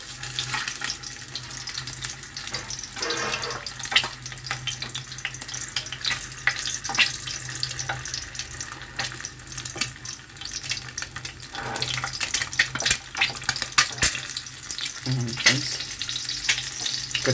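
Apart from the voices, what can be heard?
three eggs boiling in a pan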